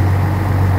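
A diesel locomotive of the La Plata University Train idles with a deep, steady hum and a strong low drone, close and loud, with a truck-like engine rumble and no voices over it.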